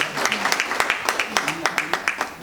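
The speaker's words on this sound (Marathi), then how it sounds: "त्यांच्यासाठी एकदा जोरदार टाळ्या." Audience applause at a public library event, a crowd clapping in a steady, slightly rhythmic patter with distinct claps, moderately close, with a voice faintly present underneath.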